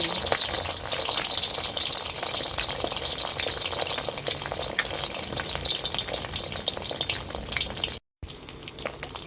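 Eggs frying in a pan of oil, crisping up with a loud, close, continuous sizzle and dense crackle that breaks off briefly before resuming.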